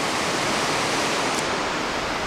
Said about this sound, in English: So you got this waterfall over there.